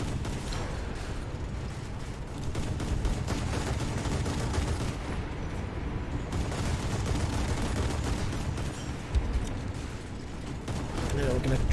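Naval gunfire aboard the Italian cruiser Bartolomeo Colleoni in War Thunder, with 100mm secondary guns firing: a dense, continuous barrage of booms and rumbling under engine noise, with a voice talking over it.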